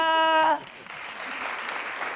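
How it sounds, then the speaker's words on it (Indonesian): A short burst of applause follows a brief tonal sound, clapping spreading steadily and moderately loud for a couple of seconds. "tepuk tangan untuk kita"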